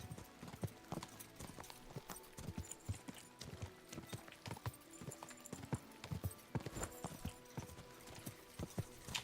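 Horse hooves clip-clop at a steady walking pace in Kingdom Come Deliverance 2, a continuous rhythmic stream of hoofbeats heard close and alone throughout.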